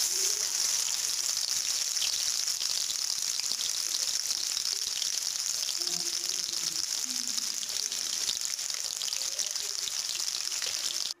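Onions fry in hot oil in a kadai, a faint, steady hiss and fine crackle running evenly throughout, with a few soft indistinct murmurs in the background.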